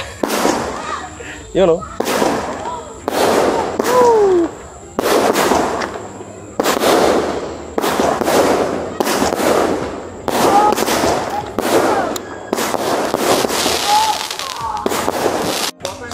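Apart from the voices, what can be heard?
New Year firecrackers exploding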